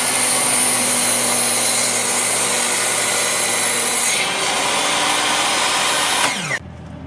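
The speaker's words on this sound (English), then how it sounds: "Getting started drilling out the wood." A power drill bores out rotted wood from a boat's frames, a loud continuous whine with a steady grinding rub that runs unbroken for several seconds before cutting off abruptly near the end.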